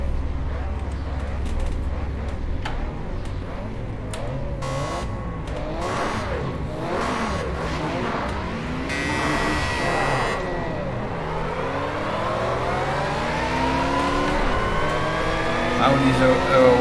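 Race cars in Project Cars 2 pulling away from the start, several engines revving and accelerating together in a rising, overlapping roar that swells toward the end, with talk over the top.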